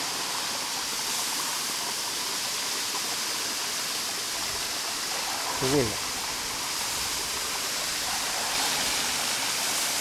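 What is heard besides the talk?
mountain stream rushing water in Nagano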